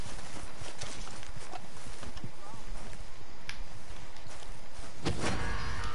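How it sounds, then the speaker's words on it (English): Horse hooves clip-clopping in Red Dead Redemption 2, a quick rhythmic patter of hoof steps under game sounds and bits of speech, with a louder burst near the end. "I got a horse over here."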